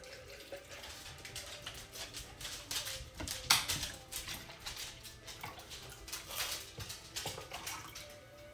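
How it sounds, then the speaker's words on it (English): Coffee pours into a cup in a home kitchen, a soft continuous watery trickle that rises and falls for several seconds, with a faint clink partway through. "I'm gonna pour my coffee in here."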